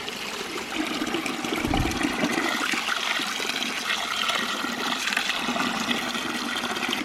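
Water gushes steadily out of a ram pump through an opened drain plug after the pump sat all winter, a loud continuous rushing and splashing stream that stays constant throughout with no talk.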